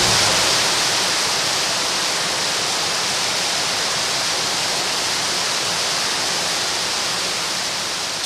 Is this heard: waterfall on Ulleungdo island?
yes